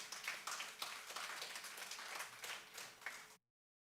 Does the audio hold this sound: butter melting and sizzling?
no